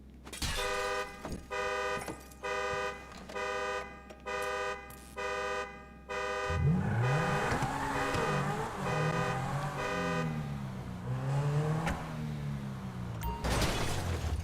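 The Cheetah supercar in GTA 5 Online: a run of rhythmic horn toots gives way to a loud engine revving up and down in wavering sweeps, ending in a burst of broadband noise.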